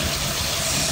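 A WW2 Willys jeep engine runs on its carburettor, its idle steady, close and loud throughout with a constant low rumble.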